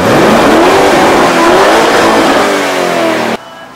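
A Lamborghini Urus SUV engine revs loud and close, rising and falling in pitch in a throaty roar before it cuts off abruptly near the end.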